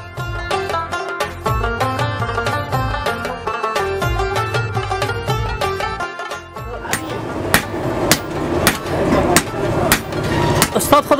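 Repeated hammer blows of a hammer head striking metal, sharp rhythmic impacts that come faster and louder toward the end, with voices talking in the background.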